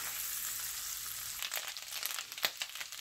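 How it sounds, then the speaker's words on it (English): Smoked turkey sausage sautéing in a pan gives a quiet, steady sizzle, later joined by soft scraping and stirring clatter near the end. "this smoked turkey sausage. And I'm just going to saute this for a few minutes before I add the onions"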